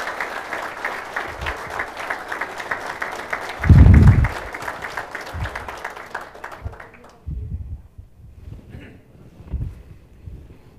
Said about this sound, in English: recognize those individuals publicly with a warm hand of applause